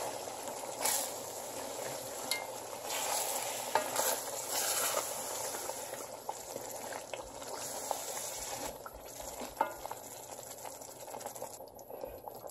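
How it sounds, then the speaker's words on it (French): Haitian rice and beans stirred in a cooking pot, a steady scraping and swishing with soft bubbling and sizzling underneath, continuous and close for the whole stretch with no voices. "Bien mélanger."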